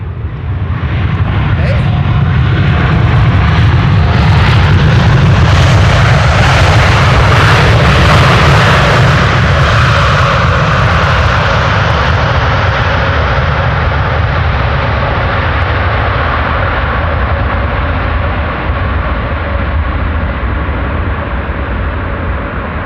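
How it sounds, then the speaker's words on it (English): A KLM wide-body jet lands at Amsterdam Schiphol and deploys its thrust reversers, producing a loud, surging roar that peaks early and then slowly fades as it decelerates, with a voice speaking faintly. "Was a KLM wide body using their reversers."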